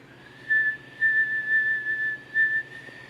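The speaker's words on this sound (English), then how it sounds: "inhale through the pursed lips for making a whistle sound" A person inhales through pursed lips, producing a thin, steady whistle in four or five short breaths of roughly half a second each, close and clear against near silence.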